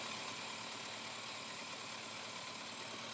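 A car engine fitted with an HHO hydrogen kit, warm after long running, idles with a steady, even broadband rumble throughout, close and constant, no voices.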